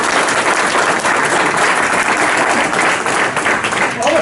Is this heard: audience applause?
yes